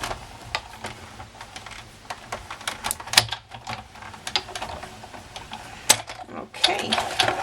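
A paper die-cutting machine cranks a cutting plate and card through its rollers with steady ratcheting clicks and mechanical clatter, close and continuous for several seconds with no talking.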